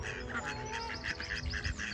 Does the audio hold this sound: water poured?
no